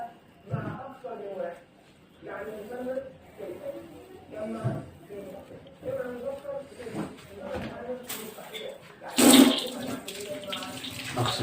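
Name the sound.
tap water running while washing hands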